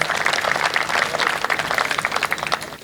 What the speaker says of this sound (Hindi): एक बार आप तालियां बजा दीजिए